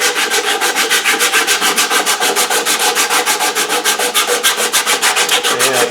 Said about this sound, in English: on a good rounding, the sandpaper will take off these marks.